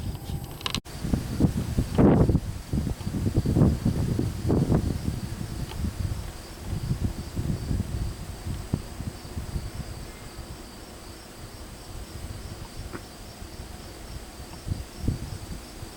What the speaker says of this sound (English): Hear that? Just the crickets.